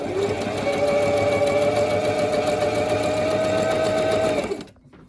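A sewing machine stitches steadily with a fine number 60 needle, a fast continuous motor whir and needle chatter lasting several seconds before stopping abruptly.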